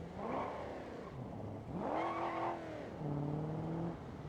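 A 4.4-litre V8 taxi with a five-speed manual in BeamNG.drive revs up and shifts through the gears, its engine note climbing, dropping at each change, then climbing again, fairly faint and without talk.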